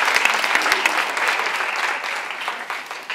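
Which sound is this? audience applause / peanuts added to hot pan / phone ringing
audience applause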